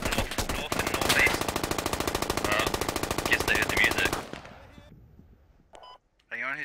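Sustained automatic gunfire in the video game Squad, a loud, rapid, evenly spaced burst lasting about four seconds, then quieter scattered noise with a voice speaking briefly.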